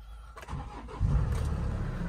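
At a market, a 2018 Hyundai Porter truck with an automatic gearbox and 165,000 km on it cranks and catches, its engine settling into a steady, rumbling idle close by.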